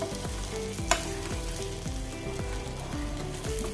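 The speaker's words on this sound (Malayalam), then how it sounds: "അധികം എണ്ണയില്ലാതെ എല്ലാ മീനും നല്ല ഫ്രൈ ചെയ്തെടുത്ത്" Kilimeen (threadfin bream) fish frying in a small amount of oil, a steady close sizzle with repeated stirring or scraping clinks and one sharp knock midway, no voices.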